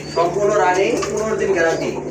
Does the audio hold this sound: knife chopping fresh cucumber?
no